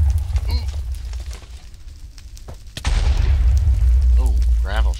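A heavy boom from a bed exploding in Minecraft hits partway through, over a constant low rumble, and voices talk around it.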